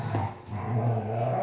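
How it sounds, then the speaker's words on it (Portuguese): Several excited dogs growl low and let out sharp yips, close and fairly loud, with no talking over them. "As cachorras estão bem loucas"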